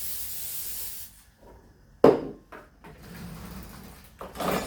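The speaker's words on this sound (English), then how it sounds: "now add more non-stick oil so your eggs won't stick." Non-stick cooking oil sprays into a pan for an omelet in a home kitchen, a short sharp hiss followed by softer spritzes and handling noises, near and with no talking.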